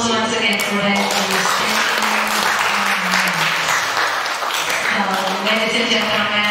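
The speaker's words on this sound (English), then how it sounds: "Big round of applause once again for them" Audience applause for the debaters at a high school English debate final, continuous clapping throughout, with a voice speaking over it at the start and again near the end.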